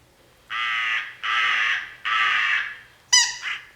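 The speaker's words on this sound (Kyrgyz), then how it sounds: "Эме бул? Карга." A crow caws in three long, loud, harsh calls evenly spaced, followed by a shorter squawking burst, played alone as a sound for listeners to identify during a televised couples' quiz show.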